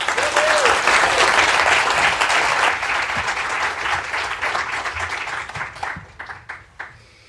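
Audience applause at an innovation award ceremony, a full crowd clapping loudly, then gradually thinning to scattered claps as it dies away.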